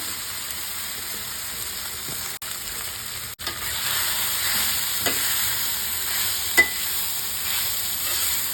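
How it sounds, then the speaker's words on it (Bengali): Food frying in a pan, stirred now and then, giving a continuous close sizzle with a few sharp scrapes and clicks of the utensil against the pan, for a quick home breakfast dish. "এটা একটু নাড়িয়ে টাড়িয়ে নিলেই হয়ে যাবে"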